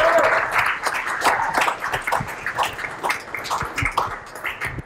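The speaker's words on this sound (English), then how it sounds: "So everybody give a quick round of applause for Jed and IBM." An audience at a civic tech lightning talk event applauds in a steady, moderately loud patter of clapping that gradually thins, with a few voices mixed in.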